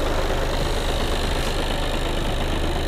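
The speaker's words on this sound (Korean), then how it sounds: "엔진 소리 일정합니다." A 2.0 TDI diesel engine in a seventh-generation Volkswagen Golf idles steadily up close, a constant low rumble with an even mechanical knock and no change in pace.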